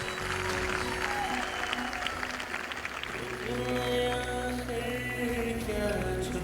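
Audience applause welcoming a speaker at a Bano Qabil Khyber Pakhtunkhwa event, a steady wash of many hands clapping that carries on throughout with no voices over it.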